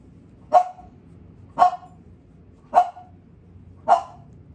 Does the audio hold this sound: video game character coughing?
no